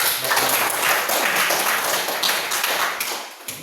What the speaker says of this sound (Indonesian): coba kita berikan tepuk tangan dulu